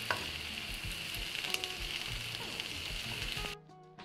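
Zucchini strips frying in a pan with grated carrot, a steady crackling sizzle with light stirring scrapes, close and alone, cutting off abruptly near the end.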